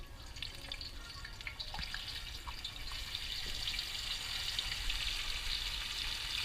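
A fish slides head first into hot oil during Cuban-style cooking on a kayak, giving a steady, fairly quiet sizzle and crackle that builds slightly and keeps going without voices.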